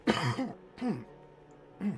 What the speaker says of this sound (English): as you can hear me cough up the last of the phlegm